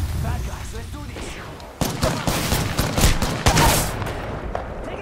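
Rapid bursts of automatic gunfire and overlapping shots in an Apex Legends match, loud and dense throughout with sharp cracks, a voice speaking briefly underneath.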